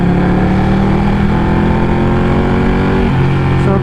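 A Ducati Panigale 1199 with its stock exhaust is ridden along the road, giving a continuous, fairly loud engine drone with a slight drop in pitch near the end. No one speaks.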